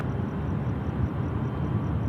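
A China Southern airliner departs Sydney Airport at night, its jet engines a steady, heavy broadband roar heard from a distance and holding constant, with a faint repeating high tone above it.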